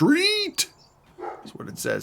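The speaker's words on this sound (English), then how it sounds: "You may hear my dog barking in the background." A dog gives a short, high bark or yelp at the start, loud and close, and a voice talks over the rest of the moment.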